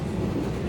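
Steady, loud rumble and rattle of a passenger train running on rails from Baramulla to Banihal, heard from on board with no break in the noise.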